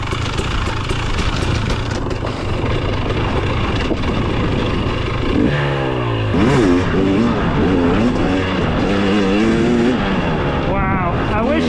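2023 Husqvarna TX300 dirt bike engine revving hard on a first ride, a loud buzzing two-stroke wail rising and falling in pitch with gear changes, close and continuous, with a voice talking over it.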